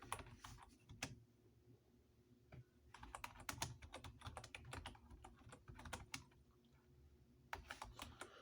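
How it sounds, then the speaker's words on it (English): Computer keyboard typing, quiet and somewhat distant, with scattered single key clicks and then denser bursts of rapid keystrokes over a low background hum. "Get to see me type hella slow."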